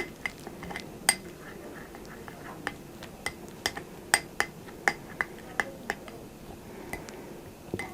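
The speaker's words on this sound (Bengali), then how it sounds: "অলিভ অয়েলটা মিক্সড করে নিচ্ছি" Olive oil is stirred into a homemade skincare mixture in a bowl with a spoon, giving a quiet series of sharp clinks and taps against the bowl at an irregular rhythm, close by with no talking.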